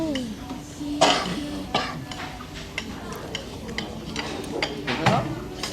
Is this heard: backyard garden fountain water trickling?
no